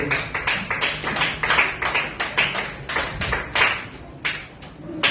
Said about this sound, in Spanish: Si le va a dar esa ofrenda de aplauso, désela a Dios